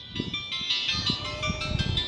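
Phone ringtone playing a Christmas tune as a repeating electronic melody, moderately loud and steady over a busy outdoor background of low rumble and scattered noise.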